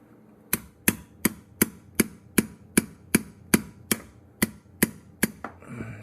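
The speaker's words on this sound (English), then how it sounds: "So how I do it is take my chisel," Thirteen sharp metallic strikes hit a chisel at an even, quick rhythm, close and loud, while part of an old Waste King garbage disposal is knocked off during a sink install. A brief rustle follows the last blow.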